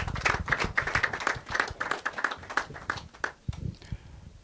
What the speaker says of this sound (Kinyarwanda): Ahangaha nagira ngo nongere mbasabe umushimire, muha amashyi.